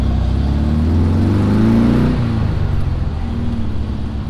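A Volkswagen car revs and accelerates at a cars and coffee meet in Pensacola, a loud, close engine whose pitch climbs and then drops as it eases off and settles into a steady drone.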